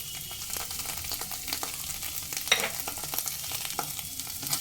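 Onion, green chilli, ginger and cumin paste fries over a medium flame, a steady close sizzle punctuated by scattered ticks and scrapes of stirring.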